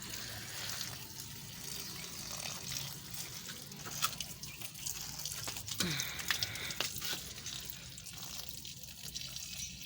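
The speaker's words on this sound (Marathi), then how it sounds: "ते एका कुंडीतलं दुसऱ्या कुंडीकडे सगळं पाणी असं वाहत जाते." Water trickles and splashes from one plant pot into another, a soft continuous flow broken by small drips and splashes, faint against quiet outdoor background.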